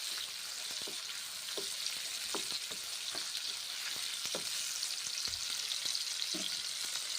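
Bottle gourd and tomato frying in a pan for lau ghonto, a steady broadband sizzle with scattered soft clicks and taps of stirring throughout, close and unbroken, with no voices.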